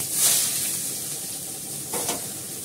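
Bay leaves and chunks of bottle gourd hitting hot oil in a pan, giving a steady soft sizzle with a brighter hiss at the start and a small stir or splash near the end, no voices.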